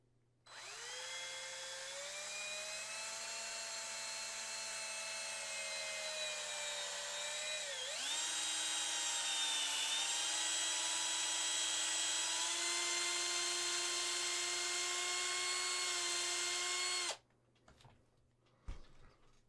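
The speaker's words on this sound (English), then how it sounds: "I'm just gonna drill the weapons real fast" A small power drill bores holes in the weapons of a resin Predator model kit, whining steadily for about seventeen seconds, stepping up in pitch partway through, then cutting off, followed by a few faint clicks.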